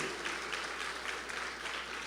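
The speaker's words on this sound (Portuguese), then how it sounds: "Pode aplaudir a ele" A church congregation claps together in steady, dense applause that holds at an even level throughout, with no voices rising above it.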